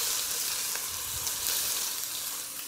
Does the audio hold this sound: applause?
no